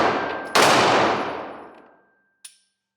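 A Glock 48 pistol fires one loud, sharp shot at a range, its echo fading over a second and a half, followed by a faint brief metallic click.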